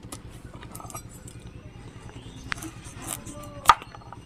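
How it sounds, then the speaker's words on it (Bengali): A knife cuts washed carrots in a kitchen, a few sparse sharp clicks and taps against a board amid a quiet background, with one louder strike near the end. "গাজরটা কেটে নিয়েছি আর ভালো করে ধুয়ে নিয়েছি।"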